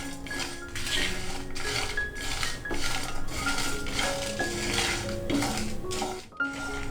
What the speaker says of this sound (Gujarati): બધું જ આપણે ગેસની લો ટુ મીડિયમ ફ્લેમ પર આ રીતે કન્ટિન્યુઅસલી હલાવતા જઈને સરસ રીતે શેકી લઈશું